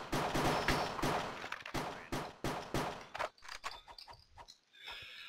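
Rapid bursts of gunfire from a Minecraft CSGO mini game, loud and dense at first, then breaking into scattered shots and quieter game noise toward the end, with no talking.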